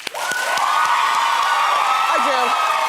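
A television talk show's studio audience claps and cheers together, a loud, sustained wash of applause with whoops rising over it, close and steady for the whole stretch.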